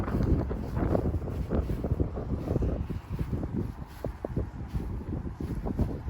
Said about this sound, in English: I hope you can hear me because of the wind